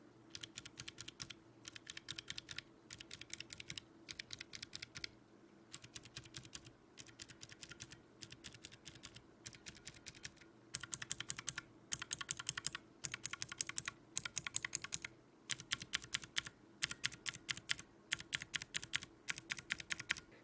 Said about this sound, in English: these sound like your usual click jacket switches, but with a muted bottom out sound